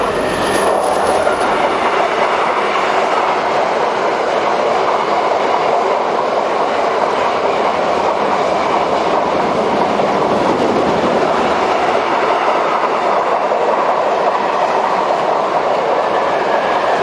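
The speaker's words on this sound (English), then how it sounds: "this ER20 diesel is seen on a freight" A loud, steady rumble of a freight train hauled by an ER20 diesel locomotive passing near Schoenberg station, with continuous rolling wheel noise and a faint clickety-clack throughout, no voices.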